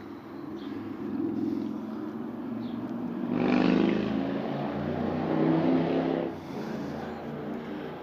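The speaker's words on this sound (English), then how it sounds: "And the lovely sound of motorcycles." Engine noise swells as motorcycles pass nearby in Pispala, Tampere, Finland, a broad rumbling roar rising and fading over several seconds, with no talking.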